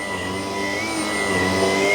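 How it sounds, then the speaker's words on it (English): A cordless vacuum cleaner picks up heavy debris and hair with a steady, close motor whine and airflow hum that holds without a break for the whole moment. "get that out with a cordless vacuum."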